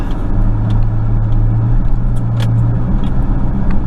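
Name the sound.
Chevrolet truck driving and accelerating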